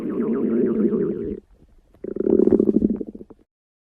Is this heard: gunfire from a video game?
no